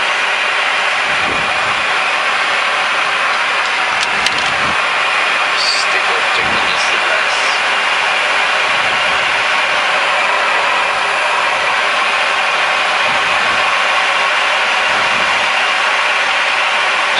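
Airliner engines spooling up for takeoff on runway 23 at Pangkalan Bun: a continuous, loud, broadband roar heard from inside the cabin, with faint intermittent clunks and rumbles beneath it.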